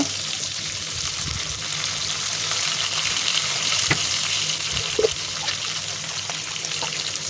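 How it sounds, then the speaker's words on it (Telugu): Green chillies and curry leaves crackle in a hot oil tempering with asafoetida and pepper powder for tamarind rice, a steady close hiss with a few sharper pops and light stirring clicks. "అన్నీ వేసుకొని పచ్చిమిర్చి కొద్దిగా కరివేపాకు కూడా వేసుకోవాలి తాలింపు అయ్యాక"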